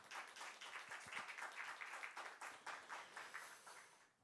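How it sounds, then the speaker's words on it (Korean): Church congregation applauding at a Sunday worship service, a steady burst of clapping from many hands that carries for several seconds and tapers off near the end, with no speech over it. "우리 축하의 박수 한번."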